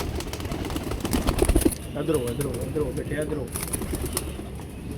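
Pigeons coo in a loft amid soft rustling and wing flaps, heard under a voice talking nearby.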